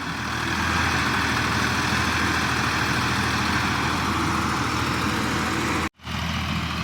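A power tiller's engine runs steadily in a coconut grove, a constant low chugging drone with no gaps except for a single sharp dropout near the end.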